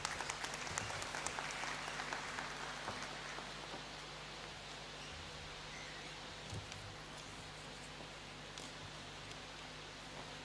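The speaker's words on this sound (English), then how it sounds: "Please let's welcome him with a round of applause." Audience applause in the Great Hall at a university congregation ceremony, a soft, steady wash of many hands clapping that sounds distant and faint, holding evenly throughout like a light rain-like hiss, with a low hum underneath.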